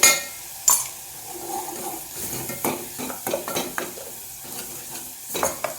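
Spice masala roasting in oil in a pan for a chicken curry and rassa, with repeated sharp scrapes and stirring clatters over a soft sizzle, fairly close and loud.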